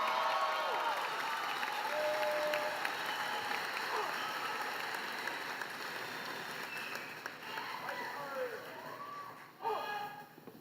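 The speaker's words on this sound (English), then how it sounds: "the ROTC students another round of applause" Applause from a graduation audience at a college commencement ceremony fills the hall steadily, a broad wash of many clapping hands with some crowd noise, gradually thinning toward the end.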